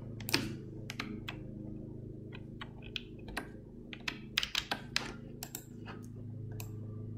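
Someone presses shortcut keys on a computer keyboard to copy a link, making a close, irregular string of sharp clicks and taps over a low hum, with no talking.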